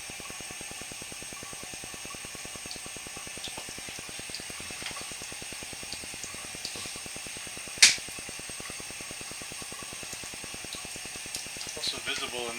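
Water trickles steadily through a fractured sewer pipe where deeper pooling begins, a constant low wash with one sharp tick midway and faint clatter near the end.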